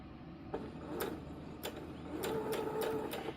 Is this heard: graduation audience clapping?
no